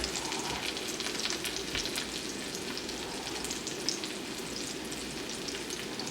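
Sauce sizzles and fries steadily on an okonomiyaki cooking on a hot griddle, a dense continuous crackle close by with no talking.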